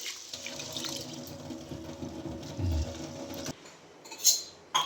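Soaked lentils and rice for adai are washed in water from a running tap, with soft splashing and faint clinks of a vessel. It stays quiet and close, and the water cuts off near the end.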